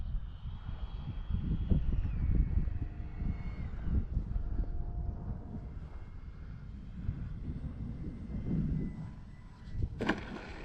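A Freewing L-39 RC model jet in Russian camo flies on its maiden flight, its engine a faint, distant whine and rumble mixed with wind buffeting the microphone.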